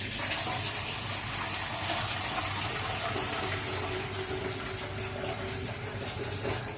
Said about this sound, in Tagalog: maglalagay ako ng tubig dito sa plastic container na paghahaluan natin ng asin.